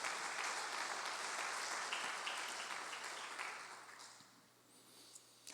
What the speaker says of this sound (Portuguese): Bata as palmas para o Senhor.